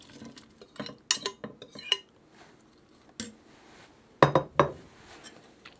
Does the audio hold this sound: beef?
yes